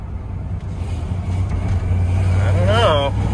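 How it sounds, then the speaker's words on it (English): A manual truck's engine idles as it rolls to a stop with the clutch pushed in, a steady low rumble under road noise, with a rising harmonic whine near the end. "Normally, when I would push the clutch in and go to come to a stop, the idle would surge."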